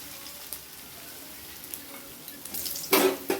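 Potatoes sizzling in a pan with fenugreek and panch phoron for Bengali methi saag, a soft steady fry with light stirring scrapes and a louder burst of sizzle toward the end.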